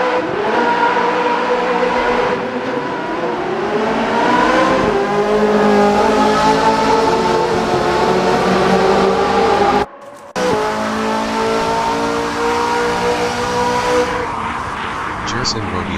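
Corvette C8.R GT3 race cars accelerating at a race start in a video game, several engines revving and climbing through gears in overlapping loud whines, a brief cut near the middle, then renewed close acceleration.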